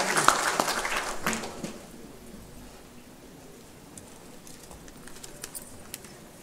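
An audience at a women's event in India claps to welcome a speaker to the stage, a loud burst of many hands that thins out after about two seconds into scattered faint claps.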